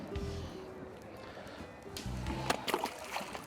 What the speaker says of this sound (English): We'll get that back in the water.